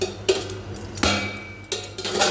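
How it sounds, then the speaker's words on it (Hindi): Boiled potatoes being mashed by hand for paratha filling, with three distinct clinking, scraping strikes of utensil against a pot or dish, spaced about a second apart, close and moderately loud, no talking. "मैंने सब्जी में से आलू निकाला है, पराठे के लिए मैश कर रही हूँ।"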